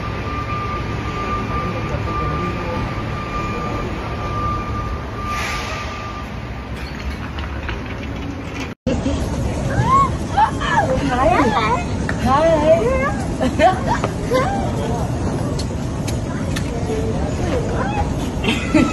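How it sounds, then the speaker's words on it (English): Airport terminal ambience with a constant hubbub of crowd babble and people talking nearby, a steady tone early on, then a brief dropout before the busy chatter and movement resume louder. "I'm at the airport."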